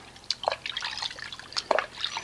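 Car wash soap, an intense cherry-scented hybrid mix of Chemical Guys Extreme Maxi Suds II and Nanoskin Wash n Wax, drips into water in a close, irregular series of small plops and trickles.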